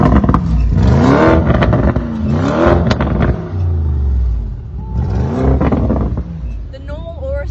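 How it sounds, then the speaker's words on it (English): A Lamborghini Urus Mansory in Corsa mode with its exhaust opened revs hard up and down several times, loud and close, with a rising and falling roar throughout. "It immediately opens up the exhaust."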